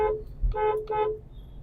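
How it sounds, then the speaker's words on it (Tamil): Two short, fairly faint horn toots in quick succession, a brief beep-beep from a vehicle nearby. "இந்த மாதிரி டைமில் ஹார்ன் யூஸ் பண்ணுங்கள்"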